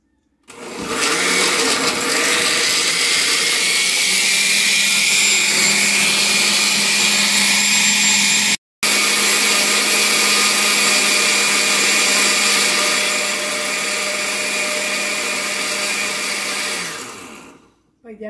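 A kitchen blender liquefies a chicken bouillon mixture meant for seasoning meat, a loud steady whir running for about sixteen seconds with one brief cut partway through, then spinning down.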